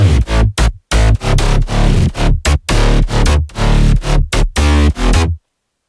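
Layered synth bass with sub bass, from an electronic track: heavy, loud, choppy pulses that start and stop abruptly in a driving rhythm, then cut to silence near the end.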